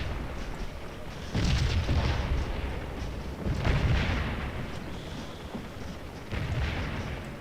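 Cannon fire in the Scourge of War battle game, several deep booming shots in a row with rolling echoes, each one loud against a quieter battlefield backdrop.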